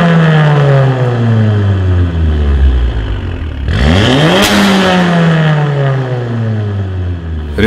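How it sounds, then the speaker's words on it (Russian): VW Golf R MK7 with an Armytrix exhaust, valves fully open, revving loudly up close: a sustained engine drone, then a sharp rev climbing to a peak and falling back to idle-like rumble, with no voices. "В режиме ON это полностью открытые клапана, это максимальный уровень звука и высокая производительность."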